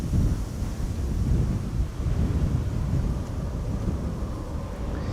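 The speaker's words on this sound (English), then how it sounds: "It is pretty windy, as you can see in the meter already." Strong wind gusting at an airport, 20 knots with gusts to 30, roars steadily as a loud low rumble buffeting the microphone throughout.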